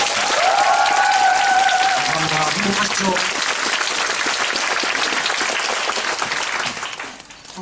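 Audience applause after a musical performance, a loud burst of clapping from the crowd that fades toward the end, with people speaking over the start.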